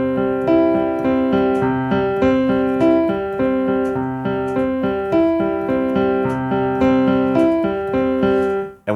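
Piano repeating an eight-note pattern on the white keys, clear even notes ringing steadily and close with sustained overlap, played continuously without voices.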